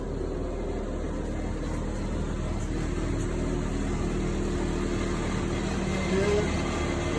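A ventilation fan venting a wax casting oven out a window in a temporary setup, giving a steady, even drone that runs unbroken from start to finish at moderate loudness.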